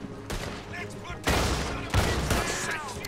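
Gunfire during a shootout in the Western video game Red Dead Redemption 2 comes as heavy, booming blasts with a few loud reports, set against background game sounds and faint voices.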